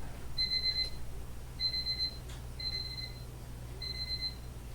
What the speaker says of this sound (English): And of course my alarm's going off.